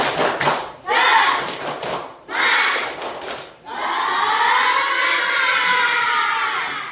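Primary school class performing a rhythmic group clap chant, loud bursts of clapping and shouting voices in short phrases separated by brief pauses, ending in a longer sustained section.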